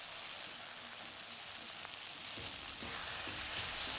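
Spiny gourd frying in a pan while turmeric powder is added, giving a soft, continuous sizzle and crackle heard close up that swells slightly toward the end, with no talking.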